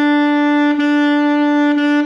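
Saxophone plays a practice rhythm with the ties left out, holding one steady, loud pitch broken by brief re-articulations at an even pulse, with no voices.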